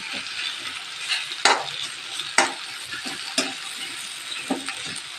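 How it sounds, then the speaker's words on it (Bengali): Dates, capsicum and mango leather being stirred in a hot pan, with a low steady sizzle and a few sharp scraping knocks of the utensil against the pan at roughly one-second intervals, with no talk. "নাড়াচাড়া করবো।"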